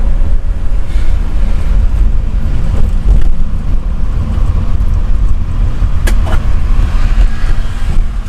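Mercedes V-Class van, a former taxi, driving and cornering, heard from inside as a loud, steady low road and engine rumble with wind buffeting throughout.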